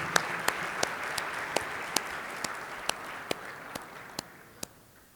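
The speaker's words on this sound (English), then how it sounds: "a round of applause for you" A public talk audience in Tashkent applauds steadily, a dense and even clapping that slowly fades. Sharp, regularly spaced clicks stand out above it.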